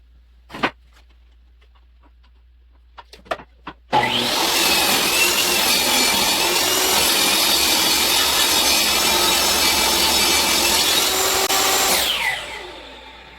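A 1x2 wood board is cut down half an inch with a power saw: a few faint knocks, then a loud, steady whining cut for about eight seconds that winds down at the end, close and with no talking.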